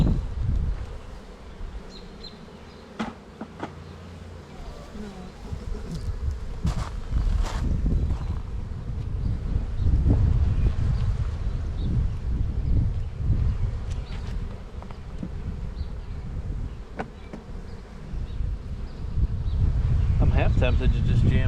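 Honeybees buzz around hive boxes while honey supers are added, a dense continuous hum near the microphone with scattered knocks and handling of wooden boxes, plus wind rumble and a voice speaking at times.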